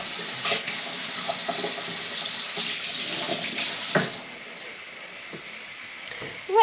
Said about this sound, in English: I'll just quickly wash my hands.